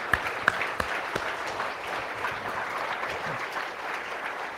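Applause from a conference audience of programming-language researchers thanking committee members, a steady wash of many hands clapping at moderate distance with a few sharper claps near the start, no voices over it.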